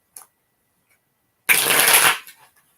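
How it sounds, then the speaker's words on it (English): Cards are riffled in one quick, close burst of papery rattling lasting about half a second, with silence on either side. "Let me shuffle this one up a little bit here."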